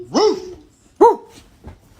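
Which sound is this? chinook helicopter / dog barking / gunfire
dog barking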